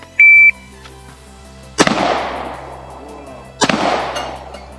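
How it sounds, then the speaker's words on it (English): Two loud gunshots from a shooting drill with the shooter wearing gloves, each a sharp crack followed by a long rolling echo, about two seconds apart, with a short electronic timer beep at the start. "I only hit the second shot after correction."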